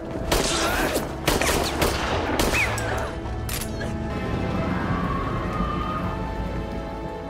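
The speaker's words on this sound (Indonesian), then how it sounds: "Dina langsung menembaknya berkali-kali menggunakan pistol yang tergeletak" A pistol fired repeatedly in a film scene, giving several sharp bursts of shots close together over the first seconds, followed by a steady rain-like hiss and rumble with no talk.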